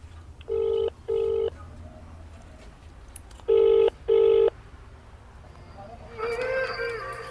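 A phone call plays two double-pulse ringing tones a few seconds apart, followed by a quieter warbling electronic tone near the end.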